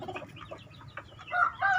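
Soft clucking and low murmuring from an old broody hen and other chickens nearby, rising into louder, more insistent clucks toward the end.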